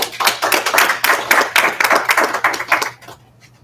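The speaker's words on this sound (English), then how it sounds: "let's give him a big round of applause" A room at a school board meeting breaks into a round of applause, a dense run of close hand claps lasting about three seconds before fading out.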